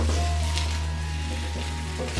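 Cut potatoes and chorizo fry in oil in a pan, a steady, close, dense sizzle with a low hum underneath, no voices.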